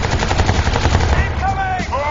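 Rapid automatic gunfire rattles loudly in the Crysis 2 video game, continuous bursts giving way to whooshing, sweeping effects near the end.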